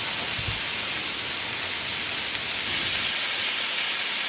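Omaha steak burgers sizzle in a pan, a dense, steady frying hiss up close with no talk, slightly brightening toward the end.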